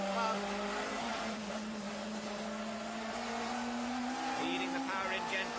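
Onboard engine drone of a race car driven by John Cleland, heading down into the Vale toward Club corner, a steady close mechanical hum with rising pitch and tyre and wind noise throughout.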